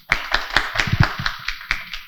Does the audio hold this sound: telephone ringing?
no